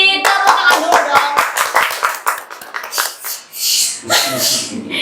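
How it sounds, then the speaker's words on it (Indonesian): Sharp hand claps in a quick rhythmic burst from a few people close by, thinning into scattered claps and followed by breathy noise and a voice. "Tepuk tangan dulu dong."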